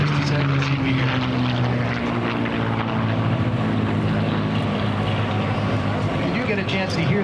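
An F-16 fighter jet roars loudly and steadily nearby at an air show, its engine drone carrying a rising whistle-like tone as it climbs, with voices faintly mixed in.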